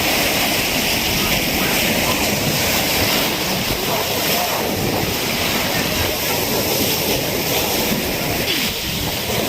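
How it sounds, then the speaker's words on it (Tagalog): Sea waves roll in at a shore where a large boat is being launched, a continuous loud wash of surf mixed with gusty wind buffeting the microphone. "Dumating na yung alon"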